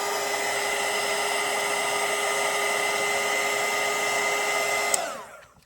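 Hair dryer blowing steadily to dry a watercolor painting, a loud continuous whir held for several seconds before cutting off and winding down.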